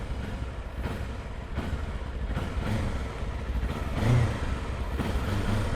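Kawasaki KLE 500 parallel twin with a 180-degree crank and stock exhaust revving, the engine note rising and falling in a few blips, with a stronger swell near the end, heard up close.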